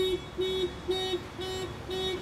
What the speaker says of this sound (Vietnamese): Ngay khi mà chúng ta đẩy cửa ra thì chiếc xe đã được báo động.